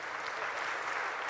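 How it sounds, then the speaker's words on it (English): Congregation clapping during a church sermon, a quiet, even patter of many hands heard from a distance, steady throughout the brief moment with no talk over it. "You can clap for it."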